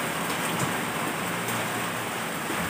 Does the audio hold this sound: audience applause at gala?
no